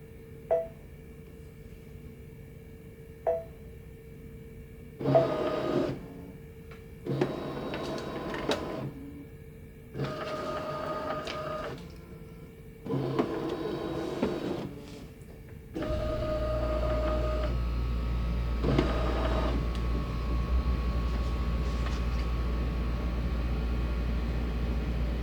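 An embroidery machine fitted with a SewTech 6x10 magnetic hoop traces the outline of a design. Its motor whirs in a series of short bursts separated by brief pauses, then settles into a longer continuous run, close and moderately loud.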